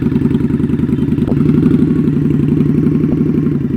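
A motorcycle creeps along at very slow speed with the clutch slipped in the friction zone, giving a steady close mid-pitched engine rumble with a rhythmic throbbing beat and light clatter.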